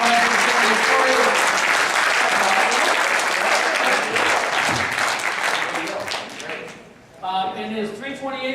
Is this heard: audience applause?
yes